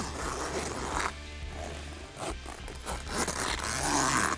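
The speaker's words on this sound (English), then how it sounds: "We're now going to put it up and zip it across." A zipper is drawn across the fabric wall of an Austrack Campers Savannah X camper trailer tent. It gives a close, continuous rasping scrape lasting several seconds, with short pauses and surges as the zip is pulled along.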